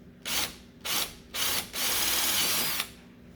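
Power drill boring a hole in an aquarium air manifold, three short whirring bursts followed by one longer steady run, close and fairly quiet.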